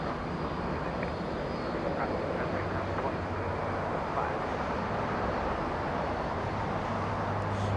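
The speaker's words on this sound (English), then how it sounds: "Big Dreamliner, United 1069 heading to O'Hare International" A United Boeing 787-9 Dreamliner departs Los Angeles International Airport, producing a dense, steady low jet roar throughout, while someone speaks over parts of it.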